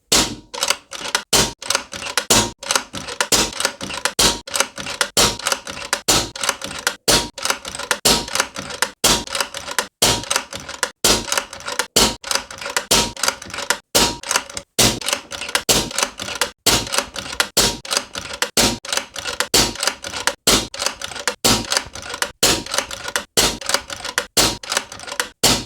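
An AGT Uragan2 PCP air rifle fires a long, rapid series of shots, each a sharp crack in quick regular rhythm, loud and close with no talking.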